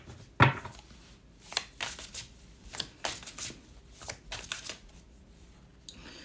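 Tarot cards are shuffled close by in a series of crisp riffles and soft slaps, a dozen or so quick bursts in an uneven rhythm, with one sharper snap near the start.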